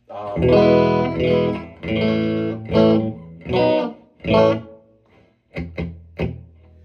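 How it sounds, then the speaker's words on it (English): An electric guitar plays through a Fender '68 Vibro Champ Reverb amp with only a little reverb, strummed chords ringing out in a series of loud separate phrases, then a few short clipped stabs near the end. "I set the FX adjustment at about 3, so you get just a little bit of reverb"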